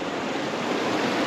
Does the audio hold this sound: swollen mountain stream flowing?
yes